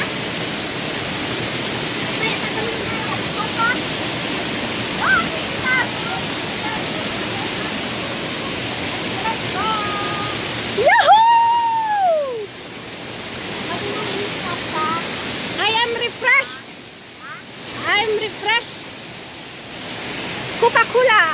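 Loud, steady rush of the Madai stream and waterfalls fills the whole span, with occasional voices and shouts breaking over the water in the second half.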